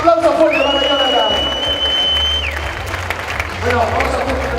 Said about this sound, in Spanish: Un aplauso fuerte para Jonathan.